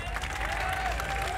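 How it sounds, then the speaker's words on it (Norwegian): A crowd at The Gathering 2013, a large LAN party event, applauds two contest winners, with steady clapping and cheering washing together in a dense, continuous roar and a faint tonal hum running underneath. "En applaus for vinneren våre!"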